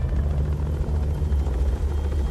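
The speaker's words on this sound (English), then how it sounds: "3 in critical condition are immediately evacuated by helicopter." A helicopter evacuating injured crew from an aircraft carrier thumps steadily with deep, continuous rotor chop, loud and close throughout.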